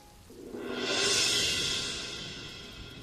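Steady rain falls in a wide, hissing wash that swells in loudness early on, peaks, then eases slightly while continuing evenly to the end, with no voices over it.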